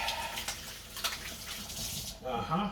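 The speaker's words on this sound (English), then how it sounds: "rinse my hand off so we don't mix the flavors up too much" Tap water running at a kitchen sink while a hand is rinsed off after handling chicken, a soft steady flow that stops near the end as a voice speaks.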